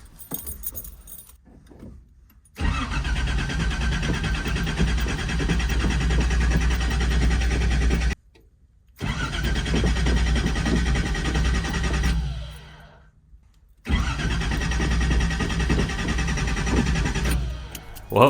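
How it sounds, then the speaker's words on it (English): A Datsun 280ZX fitted with a new alternator and battery cranks over three times without catching, each long starter burst loud and steady, separated by short pauses. "Now let's see if she wants to start up for us."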